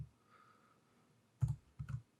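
A few keys tapped on a computer keyboard in a quiet room, coming as two brief clusters of close, crisp clicks after a faint hum.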